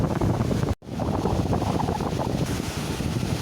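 Steady roar of strong wind buffeting the microphone, with washing waves underneath and one brief dropout early on.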